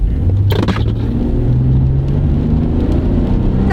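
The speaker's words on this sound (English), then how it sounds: "We'll give it a little gas." A straight-six car engine pulls hard on an open road, a loud, close drone rising steadily in pitch as the car accelerates, with no talking.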